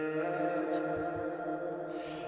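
One-shot vocal sample for a beat in Ableton Live, played alone as a sustained, harmonically rich sung tone at moderate level.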